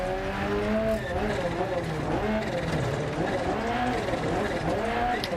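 Rally car in Dirt Rally 2.0 on a New Zealand stage, engine note rising and falling sharply as the clutch is kicked through a corner, with tire noise underneath and a voice talking over it throughout.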